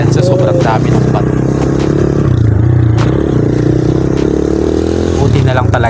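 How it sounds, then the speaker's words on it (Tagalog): A motorcycle rumbles steadily over a very rocky road, the engine droning throughout with scattered rattling and scraping from the bumpy ride, while a voice talks over it. "Binugbog yung motor namin dahil sa sobrang dami ng bato."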